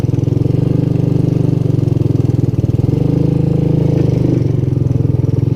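A Honda ATC200S all-terrain vehicle engine running nearby, a loud, steady chugging idle with a rapid even putter and a slight wobble in pace midway.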